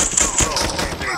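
A pistol fires in rapid succession during a Call of Duty multiplayer match, close, snappy shots packed into a little over a second amid game ambience.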